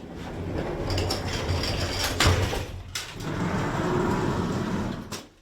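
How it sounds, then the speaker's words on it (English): The sliding entrance door of an antique three-door elevator in Erie rolls open with a continuous rumbling, scraping glide, punctuated by a couple of sharp metallic clacks, heard alone without talk. "you have to slide open the entrance door to get inside"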